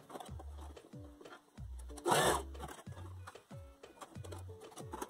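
Sewing machine stitching a fold on a hoodie hood, heard as several short bursts of rapid mechanical whirring separated by pauses, with a brief louder rustle of fabric in the middle.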